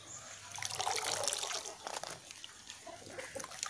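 Soaked coconut coir is squeezed by hand, and water trickles and splashes out briefly and fairly faintly before fading to soft drips.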